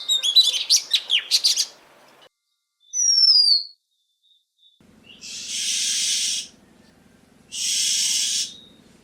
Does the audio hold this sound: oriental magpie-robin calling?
yes